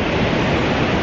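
Big ocean waves breaking at Oceanside beach, a loud, steady wash of surf roaring without a break.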